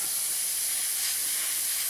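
Airbrush spraying light coats of paint onto a 1/48 scale Eduard SE5a model aircraft, giving a continuous, close, even hiss of air that is steady throughout and carries no speech.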